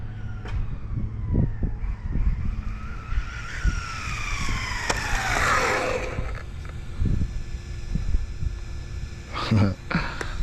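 An HPI RS4 radio-controlled car on a 2S setup launches on a prepped test surface: its electric drivetrain whines, rising sharply in pitch and then falling away, over steady background noise with a few sharp clicks and knocks.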